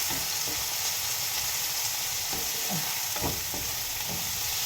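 Onions frying in a pan for a prawn curry, a steady sizzle running throughout with a few soft stirring scrapes and clicks near the middle and end.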